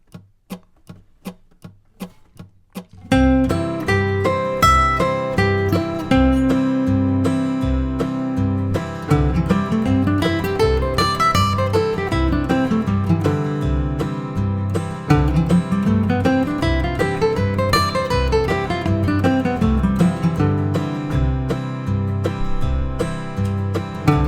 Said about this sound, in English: I'm going to play each one of those along with the strum machine backing track.